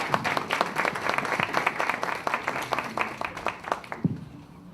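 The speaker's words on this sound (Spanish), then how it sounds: "si le damos un aplauso por habernos acompañado" An audience at an international forum on Resolution 1325 claps for a commissioner, with sustained moderate applause of many hands that thins out and fades in the last moment.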